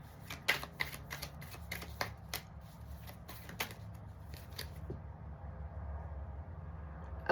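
Tarot cards are shuffled close by in a quiet room. Crisp, rapid riffling clicks come in a quick run, then taper to a soft settling rustle as the cards are laid out.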